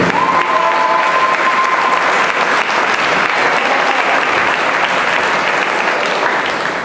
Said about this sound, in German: Aus alter Tradition auch hier bitte einen kräftigen Applaus für beide Kämpferinnen.